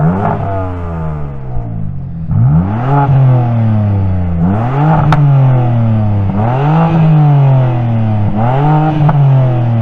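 BMW car engine revving hard in repeated bursts, each rising sharply in pitch then dropping back, loud and close with a raspy exhaust edge and no voices.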